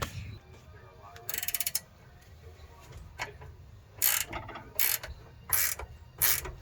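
A wrench working loose a rear upper camber arm bolt on a Dodge Challenger gives short bursts of ratcheting clicks, one early and four more near the end, close and fairly loud over a low background hum.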